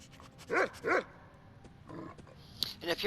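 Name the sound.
armored dog barking in Skyrim video game, Dawnguard DLC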